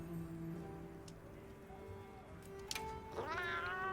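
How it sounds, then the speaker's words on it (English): A cat meows in Monster Hunter Wilds, giving one short rising mew near the end. It sounds faint and follows soft game clicks and ambient background noise. "I much prefer the cat noise."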